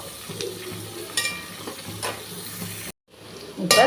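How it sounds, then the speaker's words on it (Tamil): Onions sautéing in a pan for Tamil-style mural fish kuzhambu, a continuous close sizzle with a few stirring scrapes, cut by a brief silence near the end before the frying returns louder. "வெங்காயம் வதங்கட்டும்."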